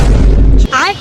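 A loud, booming cartoon firecracker bomb blast in a Tom and Jerry scene rumbles for just over half a second, then cuts off abruptly into a brief, wavering cartoon vocal squeal.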